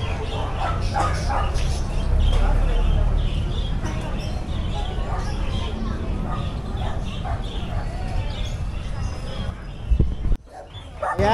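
Pomeranian, Dachshund and Shih Tzu puppies at an outdoor pet market yip and bark in quick, overlapping bursts close by, while people talk throughout.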